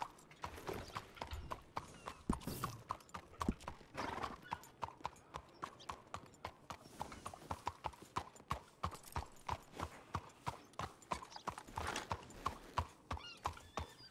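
Horse hooves clip-clop steadily in Red Dead Redemption 2, a continuous rhythmic run of close, crisp hoofbeats with a brief whinny partway through and no talking.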